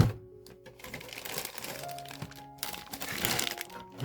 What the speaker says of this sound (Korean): 비닐로 같은데 들어있어 가지고 이거 한번 뜯어보도록 하겠습니다